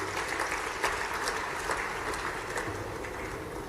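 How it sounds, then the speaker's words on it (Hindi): An audience at a political rally led by CM Mohan Yadav in Khargone, Madhya Pradesh, claps in a sustained, dense wash of applause, steady throughout. "तालियां बजाएं अपने इस क्षेत्र के लिए"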